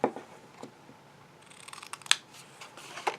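Scissors cutting card stock for a handmade Christmas chapstick gift box, a few close crisp snips and slicing rasps, with a sharper snip near the end.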